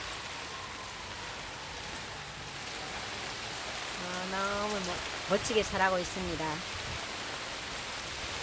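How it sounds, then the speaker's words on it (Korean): Steady, dense hiss of heavy rain on a greenhouse fills the background while a voice talks briefly in Korean over it. "밖에 빗소리가 너무 시끄럽죠?"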